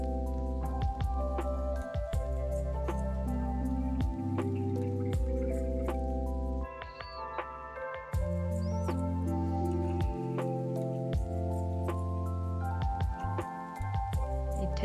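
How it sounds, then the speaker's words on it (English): Rice is swished and rinsed by hand in water in a Tokyo kitchen, with soft, close squishes and drips repeating quietly over gentle background music. "I wish I had some sort of tool that would make it easier to rinse the rice"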